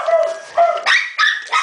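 Several dogs of three breeds, seven in one puppy mill kennel, barking and yipping in quick bursts, close and loud, with about five sharp overlapping barks in under two seconds.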